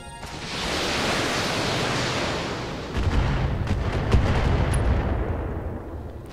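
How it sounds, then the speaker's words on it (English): A missile strikes a mech in the BattleTech video game with a heavy, roaring blast of broadband noise that holds steady, then rumbles deeper with a few crackling bursts before fading. "One missile hit us."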